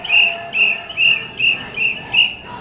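Six short, sharp whistle blasts in an even rhythm, each about a quarter second long with brief gaps, sounded as the field signal warning of an incoming enemy aircraft attack in NCC cadet training; loud and close with no talk over them.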